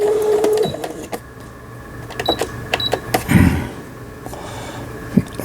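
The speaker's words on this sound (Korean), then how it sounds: "이게 버튼을 눌러서 직선 바느질이 되는 거를 확인 했습니다." A Brother CS6000i household sewing machine stitching a straight seam after repair, giving a steady mechanical whirr with light clicks and ticks, moderately close and without voices.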